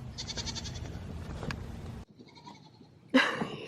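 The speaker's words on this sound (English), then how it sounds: "Hear the goats." Goats bleat repeatedly outdoors, several calls overlapping at moderate distance, then a short lull before one loud, close bleat cuts in.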